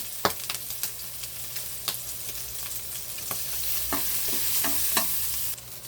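Garlic sautéing in oil in a pan, a steady close sizzle that grows louder, broken by repeated clicks and scrapes of the stirring utensil.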